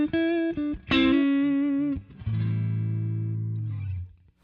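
An electric guitar plays a blues lick through an effects unit, with a few picked notes, a sustained ringing note, then a bent note sliding and held before fading, alone without talk.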